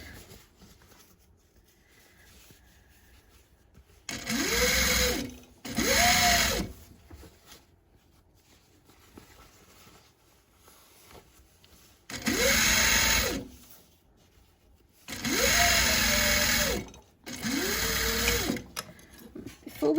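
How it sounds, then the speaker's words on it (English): A sewing machine runs in five short, loud bursts while back-tacking a seam on a fabric bag. Each burst is a whirring motor hum that starts and stops, with quiet gaps between them. "Okay, doing the back tack."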